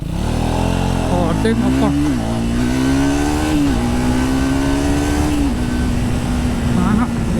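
A Triumph Speed 400 motorcycle doing a launch from standstill, its engine revving hard and climbing through several gear changes, loud and close with a rider speaking briefly over it.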